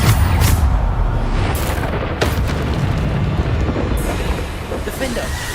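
Bombarda spell explosions in the video game Hogwarts Legacy: several loud, sharp booms at irregular intervals, each bursting over rumbling battle noise and decaying quickly, with no talking.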